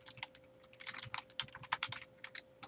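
Rapid, uneven clicking of keys as someone types on a computer keyboard, close but quiet, with no voices over it.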